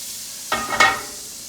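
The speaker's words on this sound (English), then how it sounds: "Butter melting over here." Butter melting in a pan for an Irish Guinness stew, heard as two short bursts of close sizzling over a quiet background.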